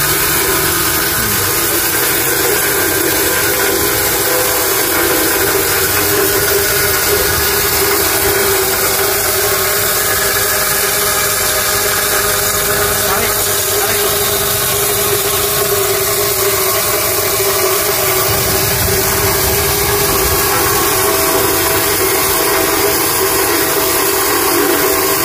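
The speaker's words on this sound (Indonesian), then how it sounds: "Lihat kestabilan dinamo." A stainless steel disk mill flour grinder driven by an electric motor runs continuously, a loud, steady mechanical drone with a constant hum and whine that stays even throughout, with no talk.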